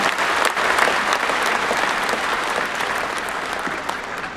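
Loud, sustained applause from a large audience fills a New Delhi stadium event hall, steady dense clapping throughout with no speech over it.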